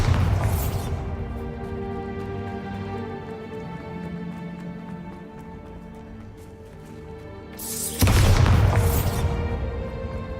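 A Bombarda spell explosion in Hogwarts Legacy, with two loud booming blasts, one at the start and one near the end, separated by a low rumbling lull. No one talks.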